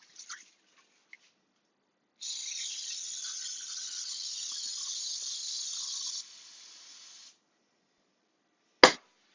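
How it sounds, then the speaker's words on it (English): Cooking spray hisses from a can into a pan on the stove in one continuous four-second burst that tapers off, followed by a sharp click. "add in some cooking spray"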